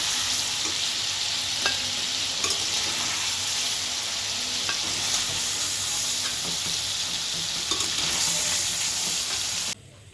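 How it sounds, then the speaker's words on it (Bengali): Pieces of shol fish fry in hot oil, giving a loud, steady sizzle that holds throughout before cutting off abruptly at the end. "পাঁচ মিনিট মাছগুলো ভেজে উঠিয়ে রাখলাম।"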